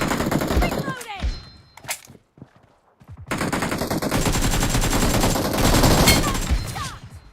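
Gunfire in the mobile battle royale game BGMI, bursts of rapid shots loud and close, broken by a short quiet gap before a long sustained volley.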